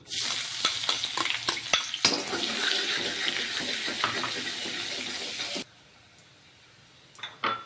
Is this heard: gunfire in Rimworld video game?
no